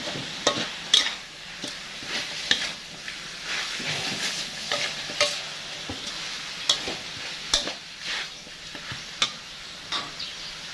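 Chicken stir-fried in a hot pan for a spicy dish, a steady sizzle under irregular scraping and clacks of a utensil stirring, close and continuous.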